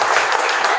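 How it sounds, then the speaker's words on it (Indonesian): Applause for a student in a classroom lesson, a short burst of dense group clapping heard close and fairly loud with no talk over it. "Kasih tepuk tangan."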